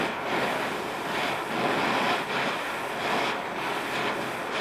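Blowtorch flame roaring steadily outdoors while heating a metal Corvair fan belt wrench red hot, a loud broad hiss with slight surges and dips in strength, no talking.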